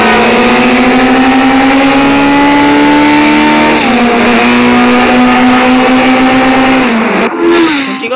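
Loud, sustained racing car engine drone holding a steady pitch, shifting briefly and then dropping off near the end.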